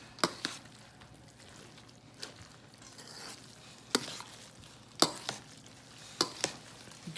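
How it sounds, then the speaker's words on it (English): A utensil mashes and chops cornbread for dressing in a pan or bowl, making soft, faint scraping punctuated by several sharp taps at irregular intervals. "You keep just mashing and chopping"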